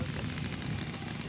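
A scale model airplane coming in to land at an air show, its engine a steady buzzing drone heard from a distance, with people talking over it.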